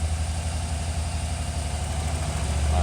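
Steady low rumble of a Chevy/GMC 2500 cargo van engine idling, with an erratic oil pressure gauge, running continuously and fairly loud with no talk.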